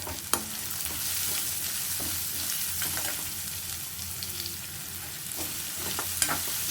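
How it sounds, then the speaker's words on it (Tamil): Finely chopped onion frying in a pan for a samosa filling, a loud continuous close sizzle with occasional spatula scrapes and light clicks of stirring, no voices. "வெங்காயத்தை நல்லா வதக்கிக்கலாம்."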